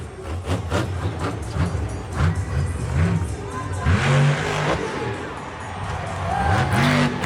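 A Monster Jam monster truck, El Toro Loco, revs its engine loudly at close range on a stunt course, with throaty rising and falling surges, tire noise and a voice partly mixed in.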